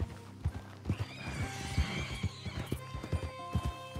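Horses trotting in Red Dead Redemption 2: a steady, fairly close clip-clop of hooves runs throughout, with a whinny and snorting over it and no talk.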